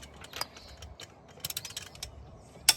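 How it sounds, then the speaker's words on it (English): Front brake bolts being torqued down with a wrench, giving faint clustered mechanical clicks and ratcheting ticks in short bursts, with one sharper click near the end, all fairly quiet and without talk. "He's torquing them down."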